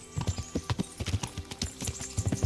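A horse gallops in the medieval video game Kingdom Come: Deliverance, its hooves pounding in a fast, steady, rolling rhythm that runs throughout without pause.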